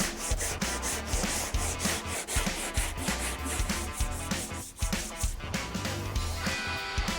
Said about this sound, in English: After it hardens, sand with some 36 on a hand block.